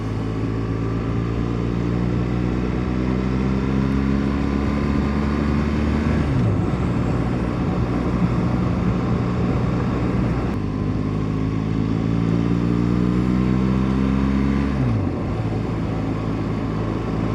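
A car drives steadily along a country road, its engine a constant loud drone with rising and falling gear tones through two gear shifts and continuous road noise.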